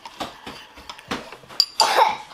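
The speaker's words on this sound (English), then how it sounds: "You need a napkin for your cough." A person coughs a few times in short bursts, close to the mic, amid faint clinks that might be dishes, with a louder rough burst near the end.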